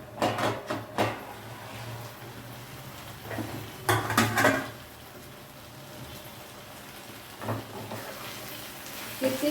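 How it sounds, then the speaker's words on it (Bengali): A cooking pot of vegetarian banana-stem (thor) ghonto has its lid lifted, with metallic clanks and clatters of lid and utensils in short clusters over a low steady kitchen hum, fairly close and moderate in level. "এবার আমরা ঢাকনা তুলে দেখি এটা কতদূর হয়েছে"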